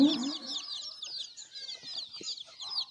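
A free-range village chicken clucks while being held for eye drops, a close burst of quick, high clucks and squawks over about three seconds, with no talk.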